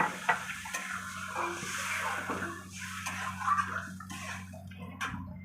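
Four cups of water are poured into a cooking pot holding rice and potatoes, a close, continuous splashing gush lasting several seconds over a faint steady hum, ending with a brief knock.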